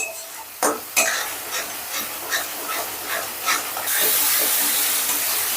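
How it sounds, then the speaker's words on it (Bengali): Spice paste sizzling in hot oil while a spoon stirs it, with scraping strokes against the pan over steady frying hiss that swells into a louder, continuous sizzle near the end, close and loud. "এবারে মশলাটাকে আমি বেশ ভালো করে কষে নিচ্ছি"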